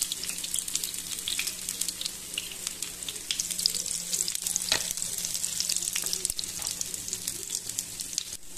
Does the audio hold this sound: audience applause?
no